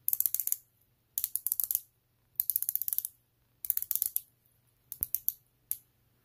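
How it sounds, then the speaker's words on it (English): Unidirectional 60-click bezel on a Hamilton Khaki Navy Scuba dive watch being turned, giving close, crisp bursts of rapid ratcheting clicks in about six separate turns with silent gaps between. "You got the signed crown, which is screw down. Unidirectional bezel. 60 click."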